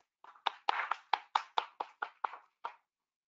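Sparse applause from a small audience at a Catholic school conference, about ten distinct claps in a slow, thin pattern, faint and fading out.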